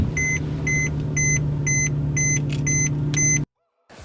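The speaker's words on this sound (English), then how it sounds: "and the car starts up." A Mercedes with push-button start runs under a steady low engine hum, while a repeating series of about eight short electronic chimes sounds over it, before everything cuts off abruptly.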